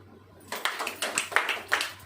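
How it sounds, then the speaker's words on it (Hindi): A congregation at a Christian preaching gathering breaks into applause after a brief quiet. The claps are moderate, close and even, with no talk over them. "ताली बजाइए"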